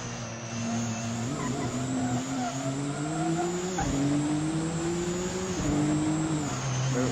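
GT3 race cars lapping a track in a racing video game, engines droning loudly and continuously with rising gear-change whines and occasional tire squeal, no talk over it.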